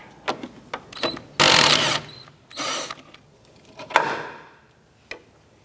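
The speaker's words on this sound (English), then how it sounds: "Using a 15mm deep socket and a 14mm wrench on the back side of our sway bar end link, we want to go ahead and remove this nut off of our strut." A 15mm deep socket ratchets against a 14mm wrench while loosening the nut on a rear sway bar end link at the strut of a 2006-2013 Chevrolet Impala: close metallic clicks, short bursts of tool noise and scattered taps, with no one talking.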